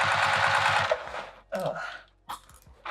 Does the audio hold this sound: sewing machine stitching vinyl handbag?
yes